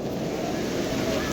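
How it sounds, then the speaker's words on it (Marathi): A stream fed by a waterfall rushes along a monsoon trekking trail up Harishchandragad fort, giving a steady, close, loud wash of flowing water with no pauses. "जुळजुळ वाहतं पाणी."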